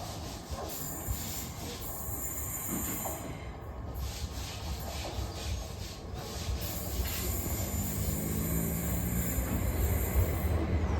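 Train at the Swindon main line station, a steady low rumble with rolling wheel noise and high metallic squeals and hiss, close and continuous with no talking.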